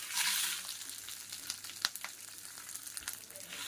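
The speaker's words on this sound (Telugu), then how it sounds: "ఇలా లైట్గా వేపుకుందాం ఇవన్నీ వేగే వరకు వేపుకుందాం" Dry red chillies, cumin and curry leaves roast in a pan with a close hiss that is loudest at the start, then settles into a lighter sizzle broken by scattered sharp crackles and spatula scrapes.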